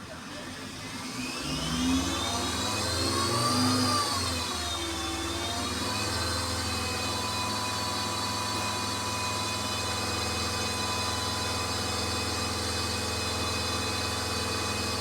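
Car engine in a workshop during a charging system test, rising in pitch as it revs up to about 2500 RPM, then holding a steady, close, droning high idle for the rest of the clip.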